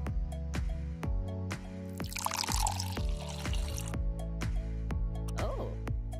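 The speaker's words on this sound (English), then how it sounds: "I can fill a jug with crystal clear water!" Crystal clear water poured into a jug in an animated hiking cartoon, a short splashy gush rising briefly over steady, rhythmic background music with drip-like beats.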